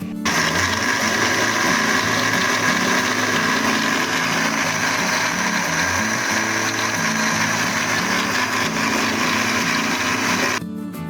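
A blender grinds milk with dates and almonds in a loud, steady whir that runs continuously for about ten seconds, then cuts off abruptly, with no talking.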